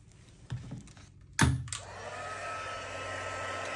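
A heat tool melting embossing powder on a stamped card: a couple of soft knocks, then a thump as the tool switches on, followed by a steady close whooshing blow that continues to the end.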